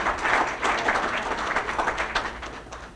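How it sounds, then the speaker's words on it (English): Steady audience applause at a school campus opening ceremony, a dense wash of clapping hands that holds at a fairly loud level for the full three seconds with no talk over it. "Let's give her a big round of applause."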